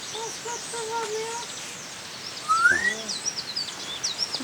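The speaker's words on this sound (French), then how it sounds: "Ah, il y a un perroquet." A parrot on an island calls outdoors with a rising squawk midway through, among scattered chirps and tweets from other birds, fairly close and moderately loud against faint background noise.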